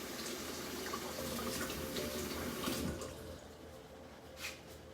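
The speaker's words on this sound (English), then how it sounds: "now I'm just gonna add some water" Water pours into a glitter-filled calm jar, a steady close splashing rush that runs loud for about three seconds, then drops to a quieter trickle with a small splash near the end.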